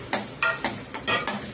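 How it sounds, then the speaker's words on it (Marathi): Onion frying in oil left over from frying prawns, a continuous close sizzle broken by several sharp stirring scrapes of a spoon against the pan at a steady pace. "सगळ्यात पहिला आपण कांदा टाकूया। कांदा मस्त की लाल करून घेऊया।"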